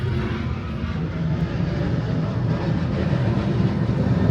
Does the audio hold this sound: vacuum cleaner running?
no